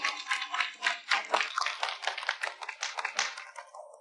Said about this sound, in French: Accueillez-les avec des applaudissements